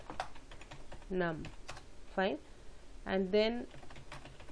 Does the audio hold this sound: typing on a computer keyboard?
yes